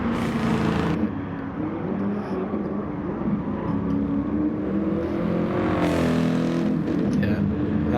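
Mercedes race car engine roaring through a racing video game, a steady loud drone with rising and falling pitch as it hammers down straights, layered with other engine noise throughout.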